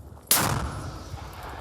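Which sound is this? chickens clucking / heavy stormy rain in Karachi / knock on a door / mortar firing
mortar firing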